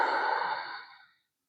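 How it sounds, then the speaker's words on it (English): A slow, steady exhale during a yoga session, a soft airy breath out that holds for about a second then fades into silence, heard alone and close. "Breathing in"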